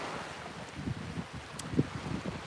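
Outdoor wind buffets the microphone in a low, rumbling wash, gusting unevenly with soft thumps over a brief stretch, fairly faint and with no voices.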